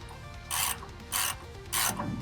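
Ratchet snugging up the nut on a Toyota 4Runner rear sway bar end link, three quick rasping clicking strokes evenly spaced over a low background hum.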